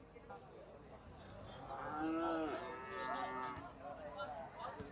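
Cows low at a busy Bangladeshi cattle market, several drawn-out moos rising in the middle and overlapping, with steady background noise throughout.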